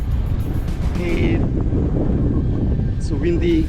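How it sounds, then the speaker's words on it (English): Strong wind buffeting the microphone at a breakwater by seaside rocks, a loud continuous low roar with gusty rumble, while a person speaks briefly over it. "it's so windy."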